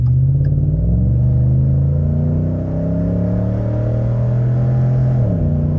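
A thirteen-year-old Ford Raptor pickup truck pulling onto the interstate, a loud, close engine drone rising gradually under throttle, then dipping briefly as it shifts near the end.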